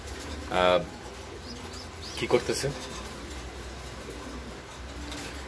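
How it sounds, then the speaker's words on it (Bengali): Pigeons give short, close coos and soft throaty calls, apparently panting from lack of water, with someone speaking briefly over them. "কবুতরগুলো হাঁপাচ্ছে, একদম পানির অভাবে কবুতরগুলো হাঁপাচ্ছে"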